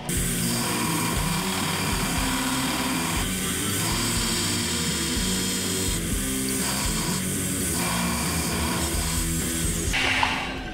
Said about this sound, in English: I'm just going to start with a little small wheel and get this little piece cut in and grind it out